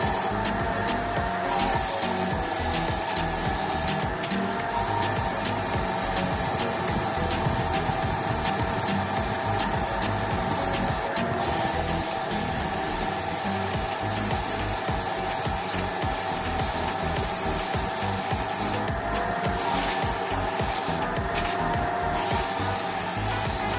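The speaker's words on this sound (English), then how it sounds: "I'll spray another coat and then we'll get on with the clear." Paint spraying from a Mini Mite 5 spray gun onto a car hood: a steady, continuous hiss and whoosh runs the whole time with brief shifts in airflow, close and loud, with no talking.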